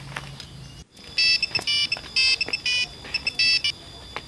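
Repeated electronic ringback tones sound in short regular bursts while a phone call is being placed, fairly close and clear, with faint background noise between rings.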